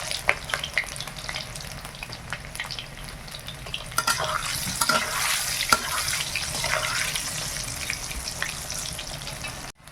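Boiled, salted potatoes fry in hot oil with a steady, crackling sizzle that swells midway, with scattered clinks and scrapes of stirring before it cuts off abruptly.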